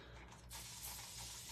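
A spray bottle mists a fabric transfer during a craft session, one steady hissing spray that starts abruptly and continues to the end, close and fairly loud.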